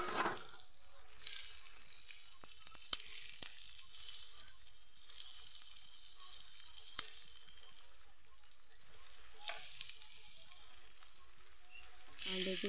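Sizzling and frying in a pan while ingredients for kale chane (black chickpea) curry are roasted and stirred, a steady hiss with a few sharp clinks of the spoon, close and fairly quiet, with no voices.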